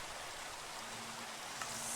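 Steady rain falls from automated weather in a Minecraft modpack game, a continuous even hiss of drops with a faint low hum underneath and no voices.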